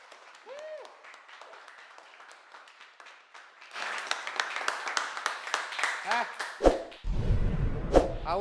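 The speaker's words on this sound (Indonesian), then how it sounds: "kita kasih tepuk tangan sekali lagi buat" An audience breaks into applause in a classroom scene, building from scattered faint claps into a fuller, louder round of clapping, with voices talking over it and a few sharp thumps near the end.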